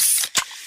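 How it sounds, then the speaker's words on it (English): A can of fizzy Pepsi is cracked open close by: a bright pop and hiss followed by a brief sharp release and fading fizz, with no talk. "Oh yeah, that's the sound of a freshly opened fizz-filled Pepsi."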